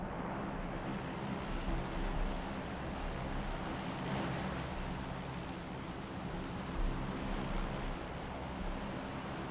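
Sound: airplane flying overhead in PUBG video game

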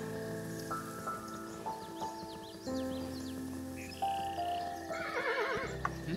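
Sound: horse neighing in video game Kingdom Two Crowns

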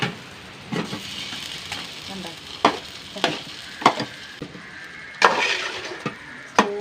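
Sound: beef being stir-fried with onions

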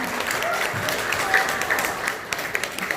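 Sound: audience applause at a seminar opening

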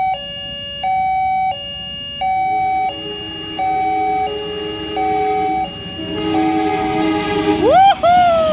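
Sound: train passing a level crossing at night

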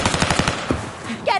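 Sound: gunfire in a video game

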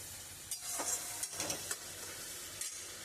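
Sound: stirring chicken balls in spicy gravy

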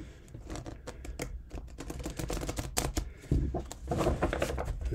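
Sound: shuffling tarot cards

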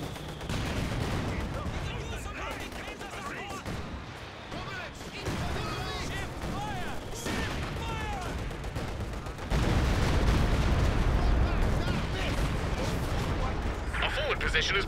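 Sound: incendiary artillery fire in Company of Heroes 2 video game

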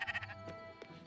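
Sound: sheep bleating in the video game Spiritfarer

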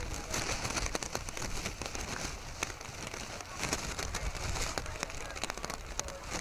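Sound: heavy rain falling

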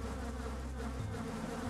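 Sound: bees buzzing in a video game

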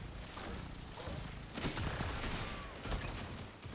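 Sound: gunfire in Destiny 2 video game

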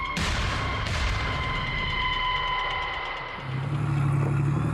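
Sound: tank diesel engine rumble and gunfire

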